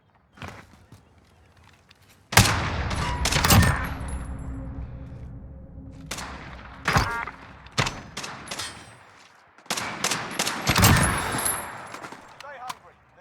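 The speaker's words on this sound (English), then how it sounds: "Gunfire." Video game gunfire in a 3v3 gunfight comes in sharp bursts, with single shots and rapid automatic volleys separated by short lulls. Footsteps and faint in-game voices are heard between the exchanges.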